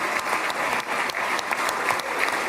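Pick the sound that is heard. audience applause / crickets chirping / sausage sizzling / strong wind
audience applause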